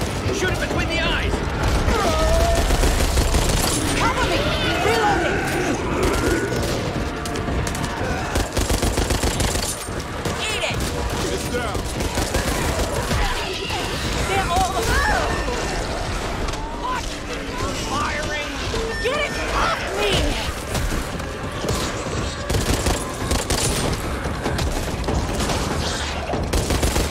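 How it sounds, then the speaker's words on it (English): Rapid machine gun fire and mechanical clatter rattle on and off through a chaotic zombie fight in Back 4 Blood, loud and continuous, with people talking over the action. "Machine gun here! Shoot it between the eyes!"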